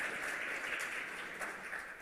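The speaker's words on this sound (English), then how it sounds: "Big applause again." A conference audience applauds a speaker leaving the stage, a soft, distant wash of many hands clapping steadily without a break.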